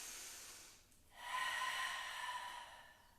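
A strong breath is pushed out through the mouth during a Pilates ball exercise, a short soft inhale followed by a loud, sustained hissing exhale heard close and alone.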